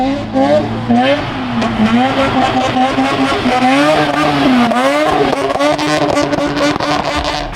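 A bridge-ported Mazda RX-8 rotary engine with lightened, balanced internals revs loud and close in sweeping, rising and falling pulls. Someone talks over it.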